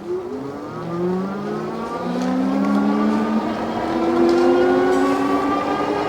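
A Tomofree YYG BR100 electric bike speeds up on its twist throttle, the motor giving a whining tone that climbs steadily in pitch and grows a little louder as it gains speed, with no voices.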